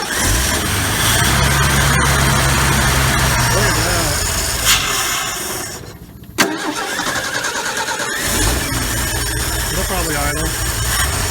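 A 1968 Ford F100 pickup, left sitting in the woods for twenty years, cranks and fires up, then settles into a loud, steady idle with a brief revving stumble midway; people talk over it.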